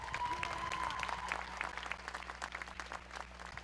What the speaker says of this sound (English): let's just all give ourselves a wonderful round of applause